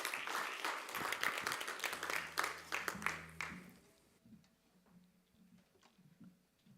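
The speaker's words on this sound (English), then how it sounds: "if we could give them another big round of applause" Audience applause for a band at a song cafe evening, a round of clapping that fades out midway, with a sustained low instrument tone during the clapping.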